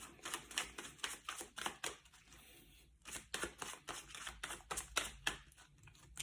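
Tarot cards being pulled and shuffled from a deck, a quick close series of crisp papery flicks and snaps with a short pause partway through.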